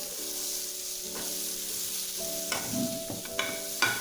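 White sauce pasta stirred in a pan, with a steady sizzle underneath and a few louder scrapes and clinks of the spoon toward the end, no voices.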